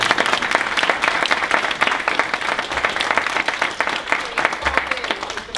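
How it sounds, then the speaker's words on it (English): An audience at a workplace improvement report-out claps for the team, a dense, sustained round of applause heard up close and fairly loud, holding steady from start to finish. "this lot deserve a round of applause for the work that's done."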